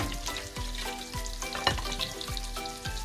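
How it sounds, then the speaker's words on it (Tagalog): Garlic fries in butter in a pan with a bright, continuous sizzle, close and fairly loud, broken by repeated scraping strokes of a utensil stirring it. "Gigisa natin yung bawang."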